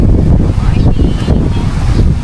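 Steady, loud seaside wind in Aurora province, Philippines, buffeting the microphone, with a broad rushing roar that sounds like surf underneath, constant throughout and with no voices.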